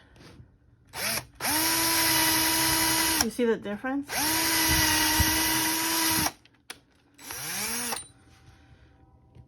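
A power drill whines loudly in two long runs with a short break between them, then a brief final burst, with a voice speaking during the gaps.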